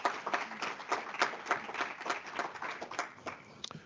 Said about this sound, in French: je vous propose d'applaudir Abdoulaye, même s'il est à distance